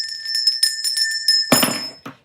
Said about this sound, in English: Where's the bell? The bell somewhere.